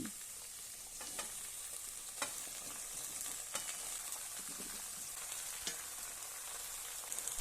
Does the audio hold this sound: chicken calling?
no